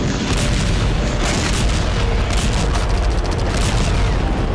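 Bombing of a weapons depot in Damascus, heard as a loud, continuous rumbling roar of explosions without any speech.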